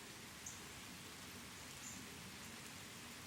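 Steady rain falling outdoors at a grandmother's house, a dense even hiss of drops on surfaces that holds at the same level throughout with no voices.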